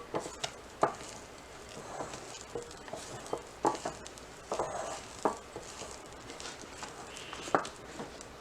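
A spatula folds butter-rich madeleine batter in a bowl, giving soft wet slaps and irregular scraping taps, close and fairly quiet, with small sticky squelches between strokes.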